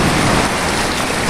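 Large waves churn during Hurricane Sandy near a pier, a loud, dense, continuous roar of surf and spray with no break and no voices.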